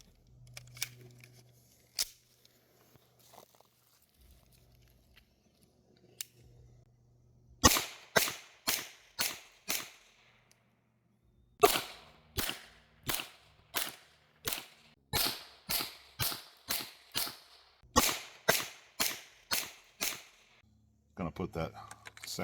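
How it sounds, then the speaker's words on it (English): Suppressed B&T APC9K SD-2 submachine gun firing subsonic 147 grain 9mm rounds: a few single shots, then rapid strings of sharp muted cracks in bursts, with quiet handling noises between. "These are actually subsonic ammo, so we'll see how this runs with the first stage of suppression."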